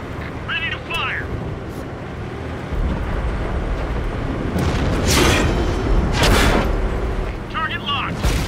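Tank cannon firing in World of Tanks on PS4, heavy booms rising out of a constant rumbling engine bed, with voices talking over the battle noise.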